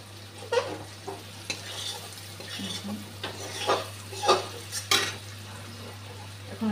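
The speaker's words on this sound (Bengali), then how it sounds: "মশলাটা ভালো করে ভাজা হয়ে গেছে" Soaked spice paste fries in a pan after onions, a soft sizzle broken by repeated scraping and clinking stirs of a spatula against metal, fairly quiet with no talking.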